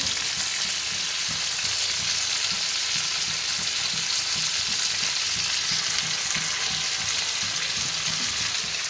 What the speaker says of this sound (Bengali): আলুগুলো একটু ভেজে নিয়ে আগে ভেজে নিই